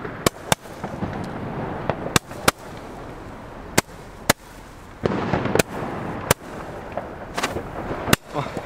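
A rapid series of loud firework rocket blasts, about a dozen sharp bangs spaced irregularly, with crackling bursts and rumbling echoes between them.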